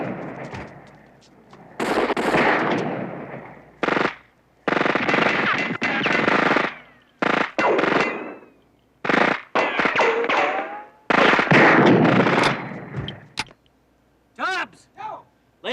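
Shootout gunfire in a Miami Vice episode, loud bursts of shots and rapid fire in several separate clusters, with short gaps of quiet between them.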